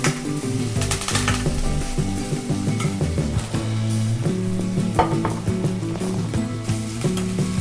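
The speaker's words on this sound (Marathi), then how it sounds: "शिमला मिरची पण टाकू आणि सगळं मिक्स करून घेऊ" Capsicum and onion fry in a pan with a constant close sizzle, while a spatula stirs and clatters against the metal throughout, with no talking.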